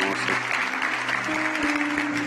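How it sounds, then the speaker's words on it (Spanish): Church congregation applauding loudly and steadily during a Spanish-language evangelical service, the clapping mixed with a sustained musical tone and some voices in the background. "Dele un aplauso bien fuerte al Rey de Veras."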